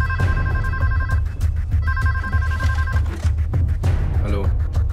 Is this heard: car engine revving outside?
no